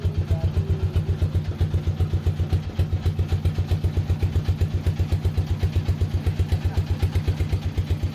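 A trawler boat's diesel engine chugs at a fast, even beat close by at a Sundarbans jetty, a loud rhythmic thumping clatter that continues unbroken throughout.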